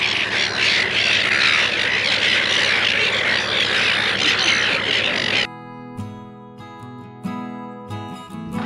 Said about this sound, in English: the seagulls are picking them out and having lunch